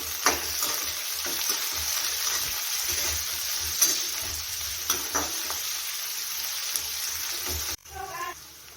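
Onion fries in a pan for chicken curry, a continuous close sizzle broken by occasional stirring clicks and scrapes, ending with a short quieter bubbling tail, no voices.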